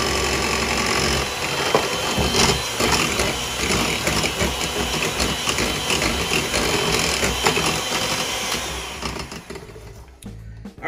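An electric mixer whirs steadily through oil, sugar, eggs and lemon juice for lemon poppy seed cookie dough, a continuous close motor drone with rattling texture that cuts off near the end.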